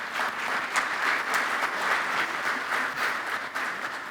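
Warm audience applause at a live awards event fills the space, steady and sustained with dense clapping, without any voices over it.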